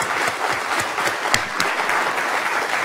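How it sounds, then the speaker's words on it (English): Audience applause following a lecture in a university speaker series, a steady dense wash of many hands clapping at even volume throughout, with no speech over it. "let's give Endre another great round of applause."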